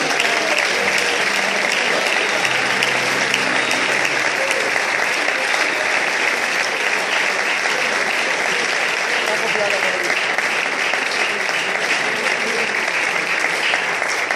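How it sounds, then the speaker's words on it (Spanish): A church congregation at a workers' meeting in Galicia claps loudly and steadily for the Lord, sustained applause with a few brief musical tones early and a voice occasionally rising over it. "Aplauda al Señor con alegría"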